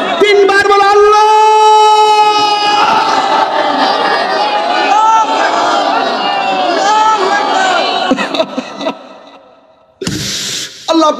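A large crowd chants Allah three times in unison at an outdoor Islamic religious gathering: long, loud sustained group voices swell and fade, followed by a brief pause and another burst of crowd noise.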